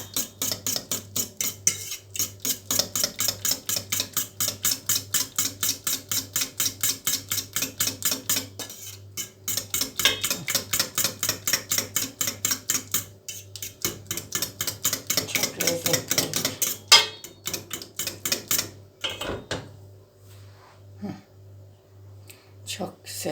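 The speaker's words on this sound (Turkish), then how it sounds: "Tereyağı koyduk. Çırpıyoruz çatalla." A fork whisks butter in a bowl with quick, steady, regular clicking strokes, loud and close, pausing briefly between bursts and slowing to scattered taps at the end.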